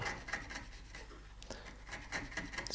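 A wood chisel paring and cleaning up a mortise and tenon joint, its back run flat on the wood, making short repeated scraping and rasping strokes up close with no talk.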